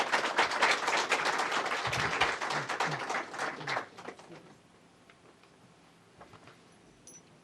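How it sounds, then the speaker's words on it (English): Audience applause at a state government event, dense clapping for about four seconds before fading out abruptly into quiet room tone with a few scattered claps. "Let's give her a round of applause."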